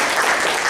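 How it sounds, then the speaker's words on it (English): A brief, dense burst of audience applause at an inaugural and orientation ceremony of a management institute, with many hands clapping steadily and fairly loud. "so please give him a big round of applause."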